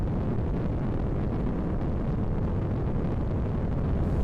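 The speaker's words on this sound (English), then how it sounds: "For a second, I thought that was a nuclear explosion happening on the planet. But it's just us going through the atmosphere." Roaring, rumbling rush of a spaceship plunging through a planet's atmosphere in the space game SpaceBourne 2, a dense, steady low-heavy wash of wind-like noise holding at full loudness throughout, with no voices.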